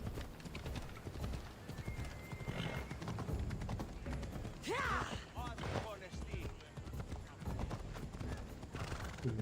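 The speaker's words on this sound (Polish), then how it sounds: "jak ten koń wolno tutaj idzie" Horse walks slowly through a town in Assassin's Creed Odyssey, with steady close hoof clip-clops and a whinny midway, under ongoing game sounds and someone talking.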